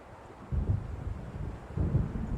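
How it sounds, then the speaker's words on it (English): Thunder from an approaching storm in Alan Wake Remastered: two deep, low rumbles, each building and fading over about a second, set against a soft windy background. "It seems there's a storm coming."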